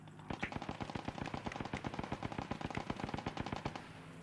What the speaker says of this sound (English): Heavy machine gun fire.